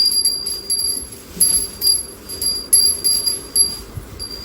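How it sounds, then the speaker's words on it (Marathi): A small metal bell rings repeatedly in quick irregular bursts during a home puja, bright and close, with a soft background murmur underneath. "वाजव घंटी वाजव"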